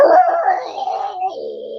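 A human voice mimics a male coyote's howl, one close, loud, wavering drawn-out tone that drops lower near the end.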